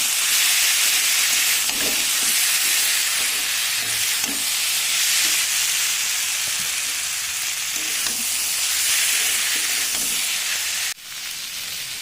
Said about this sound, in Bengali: আমি আবারও ভালো করে কষিয়ে নেবো মাছগুলো